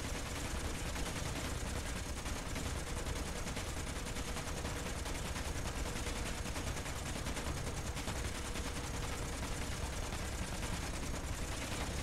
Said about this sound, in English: that's four Gatling guns just going nuts